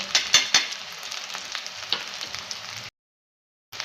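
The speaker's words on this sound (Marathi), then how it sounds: "गरम मसाला ते सर्व आपण परतून घ्यायचे सर्व भाज्या मिक्स करून घ्यायचे आहेत" A pan of mixed vegetables with chili powder, coriander powder, turmeric and garam masala is sautéed, bringing a steady crackling sizzle with sharp spoon scrapes at the start, close and alone, then a brief stretch of silence.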